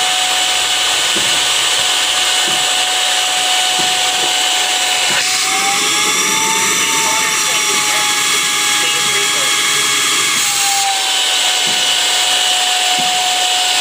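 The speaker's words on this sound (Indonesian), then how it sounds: "Welcome to use the floor cleaner." A Bolde Smart Hoover Aquaman Edition floor cleaner runs at low speed, giving a steady close motor whine whose pitch rises briefly and then settles back, continuous throughout.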